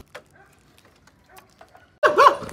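A stray dog outside a shop lets out a short, fairly loud burst of whining and yelping near the end, after quiet faint background sounds.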